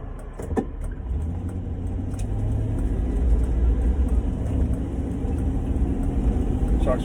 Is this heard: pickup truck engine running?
yes